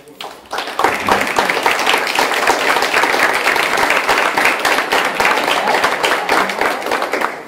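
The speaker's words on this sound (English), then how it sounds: "I think you should all give yourself a round of applause for a great night of work." Sustained audience applause at a community energy forum, many hands clapping in a dense, steady wash that swells quickly and holds loud and close for several seconds.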